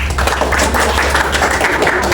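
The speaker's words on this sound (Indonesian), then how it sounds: "beri tepuk tangan buat Laila." Dense clapping from a group of students in a classroom guidance session, a steady wash of many hands applauding throughout at close range.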